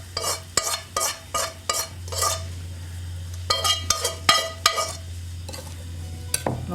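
A spoon stirs parsley breadcrumb grummel through bacon in a pan, giving a series of close, rhythmic scrapes and clinks over a steady low hum, with no talk.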